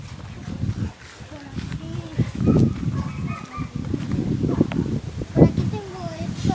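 Chickens cluck and a rooster crows in a backyard full of animals, with close bird calls mixed in among people talking.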